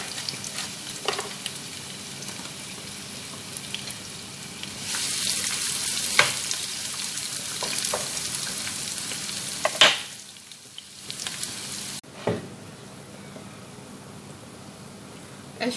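Sliced onions frying in oil for vegetable spring rolls give a continuous moderate hiss, swelling louder in the middle with a few stirring knocks and scrapes, no talk over it.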